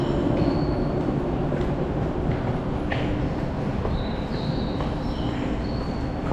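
Inside a moving commuter train in Japan, a continuous loud rumble of wheels and carriage fills the space, with faint squeals and rattles on top and no voices.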